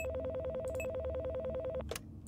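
A telephone rings in a horror video game, a rapid warbling electronic trill that pulses evenly for nearly two seconds and then cuts off with a click, fairly loud and clear, with no talking.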